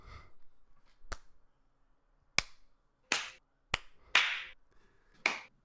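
Slow, deliberate hand claps sound about six times at uneven intervals of roughly a second, sharp but fairly quiet, with near silence between them.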